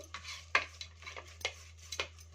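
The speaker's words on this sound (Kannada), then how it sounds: "ನೋಡಿ, ಚೆನ್ನಾಗಿ ಮಿಕ್ಸ್ ಮಾಡ್ಕೊತಾ ಇದ್ದೀನಿ." Onion and tomato masala frying in a pan with salt is stirred by hand, giving a series of short scraping and sizzling strokes at an irregular rhythm, close and fairly quiet with no talking.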